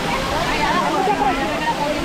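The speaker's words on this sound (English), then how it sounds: "we're at the waterfall of Puerto Rico" Gozalandia waterfall in Puerto Rico roars as a continuous, loud rush of falling and churning water, with faint voices blended into the steady wash.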